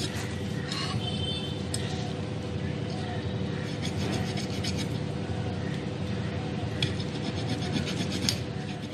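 A knife saws through the hard head bone of a sea catfish being cleaned, giving a steady, close rasping scrape with brief clicks, under a constant low background hum.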